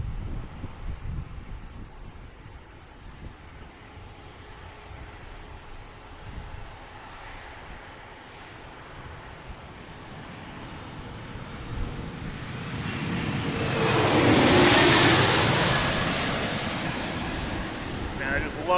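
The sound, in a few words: airplane coming in to land at DCA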